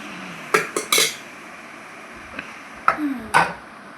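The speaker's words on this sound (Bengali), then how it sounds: "ভাতটা বেড়ে দিই সবাইকে আগে" Rice being served onto plates brings a few sharp clinks and clatters of dishes and utensils, scattered in short bursts against a quiet kitchen background with no talking.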